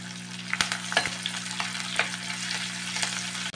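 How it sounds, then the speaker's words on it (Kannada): Garlic, ginger and dry red chilies fry in a pan with a steady close sizzle, broken by several sharp clinks and scrapes of stirring, over a constant low hum. "ಇದನ್ನು ಚೆನ್ನಾಗಿ ಫ್ರೈ ಮಾಡಿಕೊಳ್ಬೇಕು"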